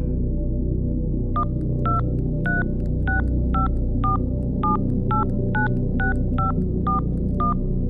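A string of telephone keypad tones, about thirteen short evenly spaced beeps, as a number is dialed on a home phone, loud and close over a steady background hum, with no talking.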